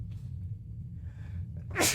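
A single person sneezes close to the microphone, a sharp, loud burst near the end after a brief quiet intake of breath.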